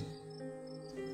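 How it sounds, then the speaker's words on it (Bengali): Crickets chirping at night in the Sundarbans, a steady layered trill of overlapping insect calls near and far, continuous and fairly faint. "নানান পর্দায় ঝিঝি পোকার ডাক ভেসে আসছে"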